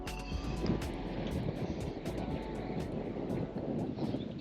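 Gusty gully wind buffets the microphone on a road bike ride from Adelaide toward Old Willunga Hill and McLaren Vale, a continuous low rumble with faint rattles, no voices.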